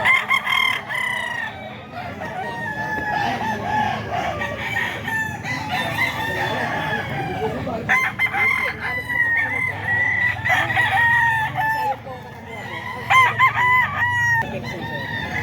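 Several roosters crow repeatedly, their long wavering calls overlapping at close range, with clucking and farmyard bustle underneath.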